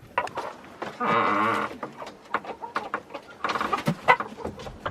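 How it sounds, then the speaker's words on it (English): Chickens in a homestead coop cluck and squawk nearby in scattered bursts, with a couple of longer rasping calls standing out. "So those are the chickens in there"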